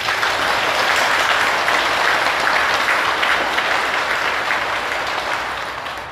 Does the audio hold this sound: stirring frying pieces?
no